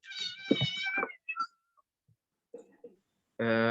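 A cat meows clearly several times, close and fairly loud, with a long tonal cry at the start, a few short chirps and soft sounds in between, and a final sustained meow.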